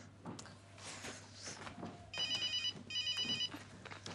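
A telephone rings twice in short bursts, each ring a trilling electronic warble, heard indoors over low room noise and a steady hum.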